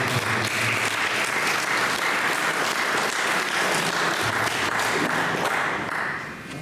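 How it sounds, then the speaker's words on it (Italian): Sustained audience applause at a Sardinian poetry contest, dense steady clapping filling the room at full strength for several seconds before easing slightly at the end. "Un applauso."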